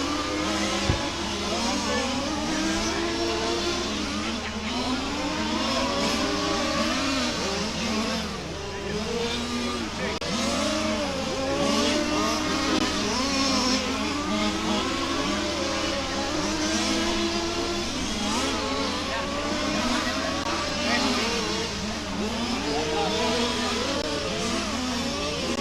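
Race cars lap the Warm Springs circuit in a steady stream of overlapping engine whines that rise and fall as the cars pass, with an announcer speaking over the continuous din.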